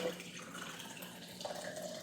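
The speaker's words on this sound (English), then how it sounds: "and cover them with water so they don't get icky looking" Water pouring over carrot sticks in a kitchen, heard as a faint, steady trickling splash that continues for a couple of seconds.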